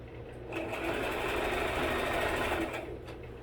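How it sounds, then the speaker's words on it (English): A sewing machine stitching a tablecloth runs in one steady, fairly quiet burst of a few seconds, its even mechanical whir speeding up and then slowing to a stop. "I'm just sewing to sew."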